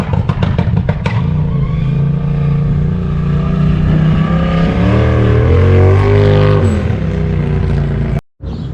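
A Polaris off-road vehicle engine revs loudly nearby, a rough, steady roar that rises and shifts in pitch, then cuts off abruptly near the end.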